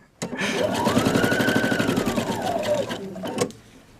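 A sewing machine stitches a dress facing, then backstitches briefly, a loud, close, rapid mechanical chatter that runs steadily for about three seconds before a brief pause and a short second burst.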